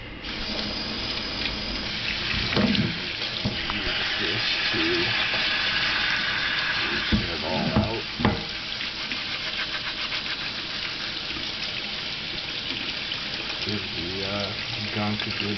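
Tap water runs steadily into a kitchen sink fitted with a garbage disposal while aquarium filter carbon and gunk are rinsed down the drain, with a person talking over the rushing flow.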